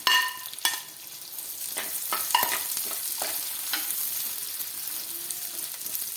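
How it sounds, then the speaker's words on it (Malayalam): Chopped onion is added to ginger, green chili and garlic in a hot pan and sautéed, with a couple of loud clanks at the start, then a steady sizzle and intermittent spatula scrapes. "ഇനി നമുക്ക് ഇതിനകത്തേക്ക് സവാള അരിഞ്ഞതും കൂടി ഇട്ട് കൊടുത്ത് ഒന്ന് വഴറ്റിയെടുക്കാം"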